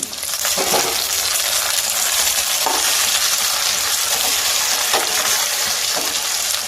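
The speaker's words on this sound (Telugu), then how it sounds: "ఇప్పుడు దీనిలో నేను కట్ చేసి పెట్టిన టమాటా ముక్కలు వేసేస్తున్నానండి" Chopped tomato pieces go into a pan of frying prawns, onions and green chillies for a sorrel-leaf dry prawn curry, giving a steady loud sizzle with a few stirring scrapes and soft wet thuds, no talking.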